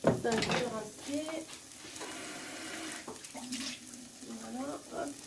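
A kitchen tap runs while something is rinsed during cèpes à la bordelaise preparation, a soft splashing flow with clatter, under quiet French speech.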